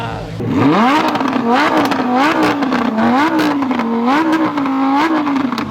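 Lamborghini Huracan fitted with an F1-style exhaust, top down, revs hard under load with a rising, wailing V12-like howl, repeatedly climbing and dipping in pitch, loud and close throughout.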